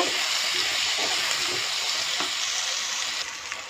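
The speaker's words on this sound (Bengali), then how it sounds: "আমি এবারে ভালো করে পেঁয়াজের সাথে আলুটাকে ভেজে নেব।" Potatoes frying with onions in a pan, a continuous close sizzle with faint stirring scrapes, fairly soft and steady with no talk.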